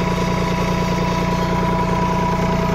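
A Swaraj Target 630 tractor engine runs steadily at 1200 RPM driving a 12.5 kVA PTO generator, a continuous loud droning hum with a throbbing mechanical rhythm and no voices.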